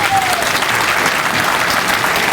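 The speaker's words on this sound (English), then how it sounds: "Please give them a round of applause." At a sports hall of fame induction banquet, the audience gives loud, close, continuous applause for about two seconds. The clapping is thick and even throughout.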